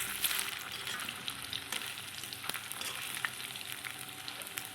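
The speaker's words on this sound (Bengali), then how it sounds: "এবার কোপ্তাগুলো একটু নেড়ে নেব।" Gourd koftas fry in hot oil with a dense, continuous crackling sizzle, punctuated by several small clicks and taps of a spatula turning them; no voices.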